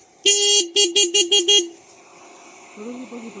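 Car horn blasting in a forest, one long honk followed by five quick short toots, loud and close, then a quieter, lower horn-like tone near the end.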